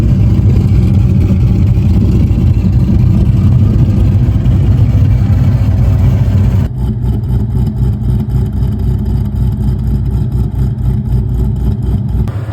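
A cammed C5 Corvette V8 rumbles loudly and close, its lopey idle choppy and uneven, with a steady deep rev that shifts to a rougher, pulsing tone partway through; no voices.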